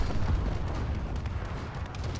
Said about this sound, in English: Incoming. Friendly bombing run.